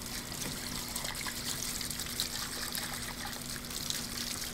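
Warm water trickles and rinses over a part during the restoration of a Heathkit HX-1681 amateur radio transmitter, a steady, close running-water dribble with a faint hum beneath and no talk.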